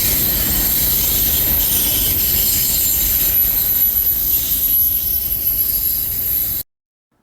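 A freight train led by NS and BNSF locomotives rolls past close by, loud and steady, with sustained wheel squeal and rumbling rail noise throughout until an abrupt cut at the end.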